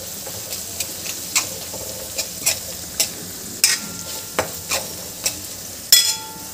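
Semolina upma being sautéed in a pan: a spoon scrapes and knocks against the metal in regular strokes, about a dozen sharp taps over a soft continuous sizzle, close and without talk.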